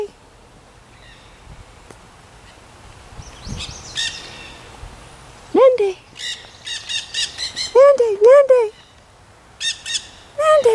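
Nanday parakeets outdoors give harsh, squawking calls in bursts, loud and close, with chirpy notes between and faint background voices early on.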